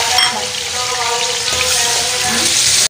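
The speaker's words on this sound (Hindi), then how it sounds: "इस घी में अब हमने जो चिकन है वो डाल देना है" Chicken frying in hot ghee, a loud continuous sizzle with some stirring texture, close and steady until it cuts off abruptly at the end.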